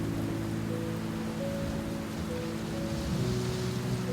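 Steady rain falling on a surface, a soft continuous patter with a low droning hum beneath it, even and unbroken throughout, with no voices present.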